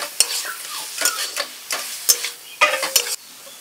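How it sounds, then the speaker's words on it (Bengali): Kochu shak (taro leaves) fries in a pan as a utensil stirs it: repeated scraping strokes with crackling sizzle underneath, close and fairly loud, in an uneven rhythm of about a stroke every half second. "এবার ভালো করে নাড়াচাড়া করে একদম শুকনো শুকনো করে ফেলতে হবে।"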